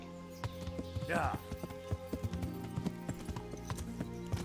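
Horse hooves clip-clop in a rapid galloping rhythm in the video game Kingdom Come Deliverance, with a short snort or whinny early on and steady hoofbeats continuing beneath the game's sound.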